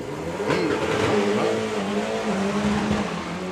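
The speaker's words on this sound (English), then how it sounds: "not a clean run though by any stretch for Alex" A 4-cylinder drag racing car makes a rough, misfiring pass at a doorslammer drag racing event, a loud, close engine roar that shifts and wavers in pitch throughout.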